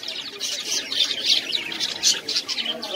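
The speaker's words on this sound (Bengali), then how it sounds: "এগুলো হচ্ছে লাভ বার্ড, এটা লাভ বার্ড না?" Lovebirds at a bird shop give rapid, high, bright chirps and tweets in quick bursts, fairly close and with no talking.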